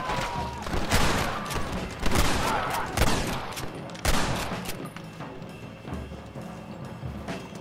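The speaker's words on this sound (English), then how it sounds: "You are not shooting! Stop shooting at me!" Gunfire in the Red Dead Redemption video game, with a Gatling gun fight on a train, sounds as repeated sharp shots in irregular bursts, some loud and close, over a busy background with no talking.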